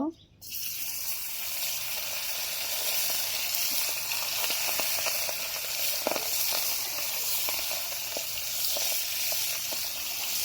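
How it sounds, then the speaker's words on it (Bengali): Bata fish fry in oil in a wok with a loud, continuous sizzle and crackle, broken by occasional sharper pops and spatters, after a brief splash at the start as the fish goes in. "কড়াই বসাই দিছি, তেল দিয়ে দিছি। এখন মাছগুলা দিয়ে দিব।"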